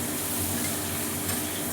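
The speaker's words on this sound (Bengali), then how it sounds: "সেই গাজরটাও আমি আলুর সাথে সাথে ভাজতে দিয়ে দিলাম" Potatoes and carrots frying together in a pan for a vegetable pulao, giving a steady, close, even sizzle throughout with no talk.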